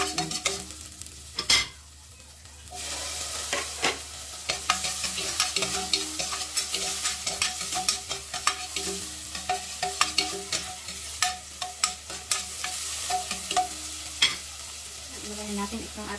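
Vegetables stir-fry quietly in a pan, a soft steady sizzle broken by repeated clinks and scrapes of a utensil, with one sharp knock near the start and no voices.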